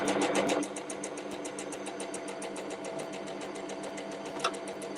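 A sewing machine stitches fabric for wedding ring cushions in a fast, even, close-up run of rapid needle ticks with a motor whir underneath, and a single sharper knock partway through.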